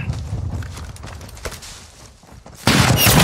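Sniper gunfire in Call of Duty Modern Warfare 2, a few sharp cracking shots amid battle noise, ending in a sudden loud burst of sound.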